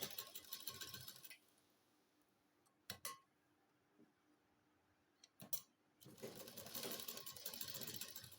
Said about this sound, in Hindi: क्योंकि अब हम इसको सिलाई लगा रहे हैं।